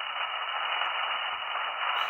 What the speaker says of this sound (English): I hear a broadcast station.